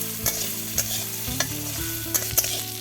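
Fried native duck eggs stirred and sautéed in a pan, a steady close sizzle broken by several sharp spatula clinks and scrapes, with no voices.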